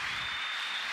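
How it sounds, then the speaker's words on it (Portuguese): Church congregation applauding together, a dense, steady wash of clapping heard loud and close with no voices over it. "Queria que os irmãos recebessem o Sr. João com uma salva de palmas, né?"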